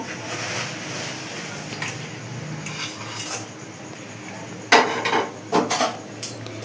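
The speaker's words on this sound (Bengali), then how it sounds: "এবার একবার নেড়ে নিচ্ছি।" Rice pudding made with Gobindobhog rice, bay leaf, cardamom and mace being stirred in a pot, a low scraping rumble followed by several sharp, close spoon clanks against the metal.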